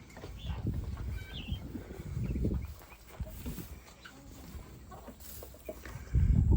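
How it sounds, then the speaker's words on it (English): Chickens clucking on a small farm near goats, with soft scattered clucks and low rustling close by, intermittent and fairly quiet against outdoor background noise. "Chickens."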